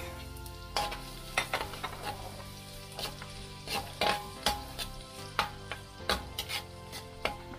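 Garlic frying in butter with a little cooking oil, being stirred; a steady sizzle runs throughout with repeated scraping stir strokes at a fairly even rhythm, close and clear, with no talking.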